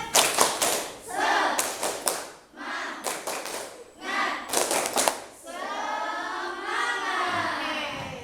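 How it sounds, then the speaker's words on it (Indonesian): A group doing a rhythmic spirit clap at a school session: bursts of loud, sharp claps in set patterns separated by brief pauses, with voices calling out between them and the group chanting together near the end. "Oke, tepuk semangat."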